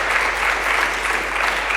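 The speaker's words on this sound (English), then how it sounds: "So we give Yaroslav a big round of applause for sponsoring live stream." Audience applause at a PocketQube workshop, a steady dense wash of many hands clapping at close range, continuous and even throughout with no talk over it.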